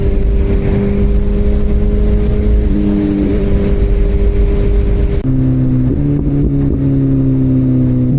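A BMW S1000RR superbike engine roars at steady high revs, close and loud, with the pitch stepping down at a gear change partway through before holding again.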